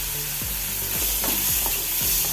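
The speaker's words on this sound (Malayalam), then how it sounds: "നെയ്യിൽ ഇളക്കി കൊടുക്കുക." Paneer fries in ghee in a pan over a low gas flame, a steady close sizzle broken every half second or so by the scrape of a spoon stirring the pieces.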